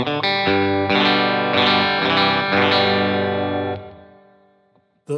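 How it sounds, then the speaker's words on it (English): Electric guitar played through its neck pickup, a Telecaster-style instrument with a creamy, slightly fat tone: a few loud strummed chords ring out with effects and light distortion, then sustain and fade away, with no talk. "The front or neck pickup has a creamier sound, a little bit fatter than a normal telly."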